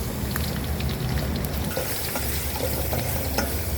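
Stir-frying in a hot pan while cooking mackerel, a dense, loud, continuous sizzle and hiss with scraping stirring strokes and occasional crackles, close up and without talk.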